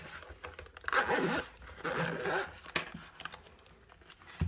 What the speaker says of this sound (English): Okay, so we'll unzip it.